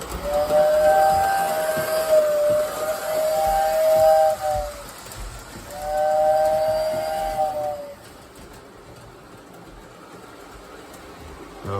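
A K-Line model train set sounds its whistle in three drawn-out, slightly wavering toots of a few seconds each, with a soft hiss and a low running rumble beneath, and no one speaking.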